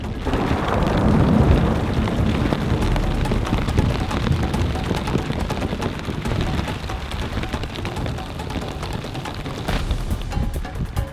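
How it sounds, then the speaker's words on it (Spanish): Heavy storm rain pours steadily on Migingo Island in a dense wash of noise with deep rumbling underneath, loud and continuous throughout without voices. "Aunque sigue lloviendo, los estragos más fuertes de la tormenta parece que han pasado."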